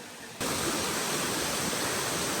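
A small waterfall fed by snowmelt in the Tirthan Valley hills, its constant hiss of falling water rising sharply after a brief quieter start and staying loud and even, with no talking.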